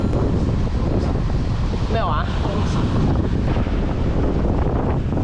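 A strong easterly wind roars over a fishing boat at sea, buffeting the microphone in a loud, constant rumble with water noise beneath, and a voice speaks briefly partway through.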